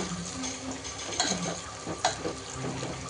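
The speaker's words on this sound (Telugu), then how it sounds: "కొంచెం బ్రౌన్ కలర్ వచ్చే వరకు వేపుకోవాలి ఉల్లిగడ్డ." Sliced onion and green chillies frying in oil in a pan, a steady sizzle broken by stirring scrapes and light clinks of a spoon against the pan, close, with no talking.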